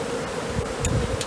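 A honey bee swarm buzzes in a steady close drone, with a few louder individual bees passing near and faint rustling underneath.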